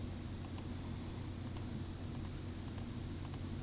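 A computer mouse clicks in quick pairs, sharp and close, several sets spaced out over a steady low hum with no talking.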